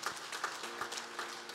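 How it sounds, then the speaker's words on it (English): A church congregation applauds during a service, a short, soft wash of many hands clapping heard from a distance, steady and blended, with no talk over it. "let's give them a round of applause"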